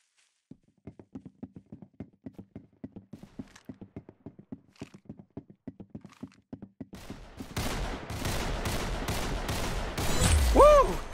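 Rapid gunfire from the Roblox shooter game Arsenal, a long run of sharp evenly spaced shots that gives way to a dense burst of louder blasts and a rising whine near the end, with no talking.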